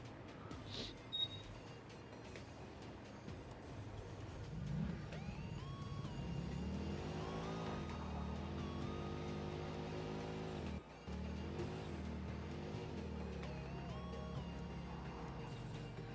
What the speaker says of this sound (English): let's take our car over there instead of flying slow